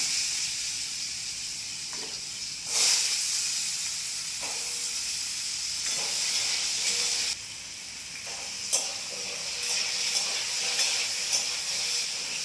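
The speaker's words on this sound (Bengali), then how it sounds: "আলুটা এরকম ডুমো ডুমো করে কেটে নিয়েছি আলুটা একটু ভেজে নেবো" Diced potato cubes fry in hot oil with a steady bright sizzle and hiss, swelling sharply at moments as pieces shift or oil spits, with no voices over it.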